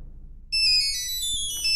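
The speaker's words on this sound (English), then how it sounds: "There goes my cell phone." A cell phone rings in the Nancy Drew: Curse of Blackmoor Manor game, a bright electronic ringtone bursting in after a quiet moment and holding steady with clear, sustained tones, nearby and alone.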